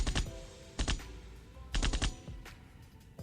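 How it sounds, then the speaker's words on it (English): Bursts of rapid gunfire crackle in a sound effect, several quick volleys spaced apart, moderately loud with no talking. "Gunshot."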